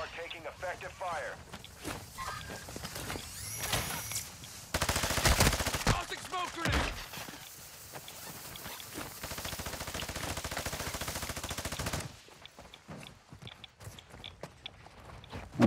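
Gunfire in a PlayStation video game, with bursts of rapid automatic shots and single cracks spread through the clip, one louder sustained stretch in the middle, and players talking over the action.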